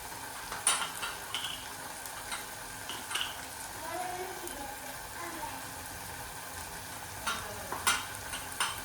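Garlic fries quietly in a pan for a fenugreek-leaf bhaji while it is stirred with salt: a soft, low sizzle with intermittent spatula scrapes and light clicks, fairly distant and faint.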